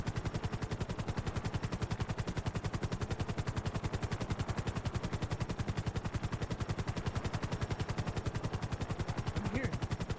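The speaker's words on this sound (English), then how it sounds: "I'm hearing gunshots" Rapid automatic gunfire in the GTA 5 video game rattles in a fast, steady stream throughout, moderately faint and continuous with no talking.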